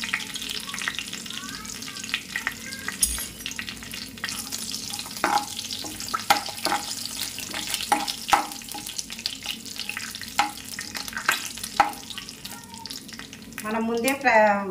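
A spoonful of cumin seeds and two small bay leaves sizzle in hot oil in a pan, a steady close frying hiss broken by stirring clicks and scrapes, with no talking.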